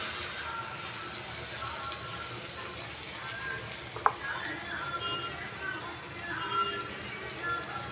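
Malpua batter frying in a pan, a steady soft sizzle running throughout with a brief utensil click partway through, fairly quiet and close.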